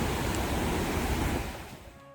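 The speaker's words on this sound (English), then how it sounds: "Waves are looking pretty rough actually today." Rough ocean waves on the Philippine coast roar close and loud as a steady wash of surf, easing slightly toward the end, with no talk.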